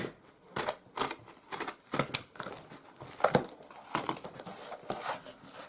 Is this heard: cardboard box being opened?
yes